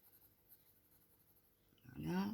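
Watercolor pencil scratching lightly across paper while coloring, a soft faint scraping close by, mostly quiet with a brief louder stroke at the end, under a voice speaking French.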